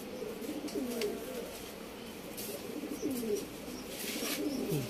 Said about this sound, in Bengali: তো দেখুন আরেকটি কাশ্মীর পায়রা দেখুন